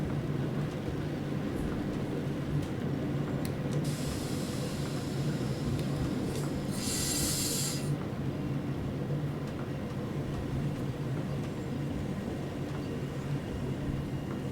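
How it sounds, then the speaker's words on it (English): A freight train passing in the Train Sim World 3 simulator on the Linke Rheinstrecke line, a low steady rumble with a brief hissing burst midway, fairly quiet and continuous with no talking. "Oh, freight train."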